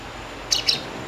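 A two-week-old Indian ringneck parrot chick gives two quick, high chirps in succession, close and clear over a faint background.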